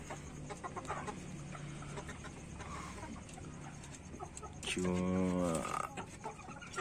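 Free-range village chickens on a small farm cluck softly throughout, then one bird lets out a louder, drawn-out call near the end, with faint talk in the background.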